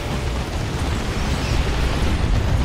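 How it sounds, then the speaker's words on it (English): Tank Buster Barrage explosions slam into a large group of orks in Dawn of War 2, a dense, continuous roar of blasts and rumbling booms that stays loud and full throughout. "Tank Buster Barrage on the big blob of orcs."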